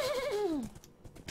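A person imitates a horse neigh with a falling, wavering whinny lasting over half a second, followed by faint clicks and quiet.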